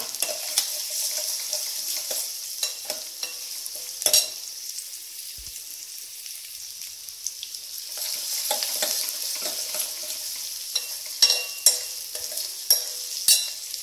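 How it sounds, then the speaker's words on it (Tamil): Onions sauté in a pan for a moong dal sambar, giving a soft, continuous hiss broken by scattered clicks and scrapes of a stirring spoon. A brief clatter comes midway, and the scraping grows busier toward the end. "ஆனியன் கொஞ்சம் வதங்கட்டும்"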